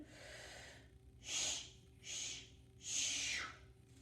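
Three slow, deliberate breaths in a breath warm-up exercise, each a soft airy whoosh of about half a second with short quiet gaps between, close and clear over a faint background hum.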